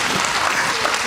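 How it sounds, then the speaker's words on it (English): Audience applause at a children's annual school function, a dense, steady burst of many hands clapping, loud and close throughout the short moment. "Ladies and gentlemen, a big round of applause."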